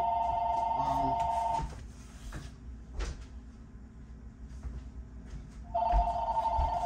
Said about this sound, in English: there's my phone ringing right on cue